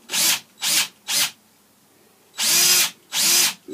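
A power drill bores a countersink pilot hole into the top of a wooden dowel for a walking stick, five short whirring bursts close up with brief pauses between them.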